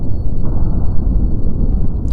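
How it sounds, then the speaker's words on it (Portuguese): A blast from an Army AT-4 rocket launcher rolls out as a loud, heavy low rumble that holds steady for about two seconds, with no voices. "é um lança-rojão AT-4 que o exército tem, que seria usado, tá vendo aí, ó, poder de destruição"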